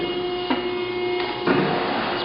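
A 60-ton Wysong CNC hydraulic press brake returning to its first position at the end of a program, a steady mechanical hum with a few soft clunks as the machine moves, heard alone without speech.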